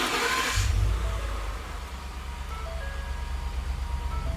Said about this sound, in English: turn your car on